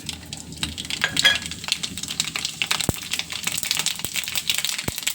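Fenugreek and mustard seeds splutter in hot coconut oil for rasam tempering, a steady crackling fry broken by scattered sharp pops and ticks, close and moderately loud.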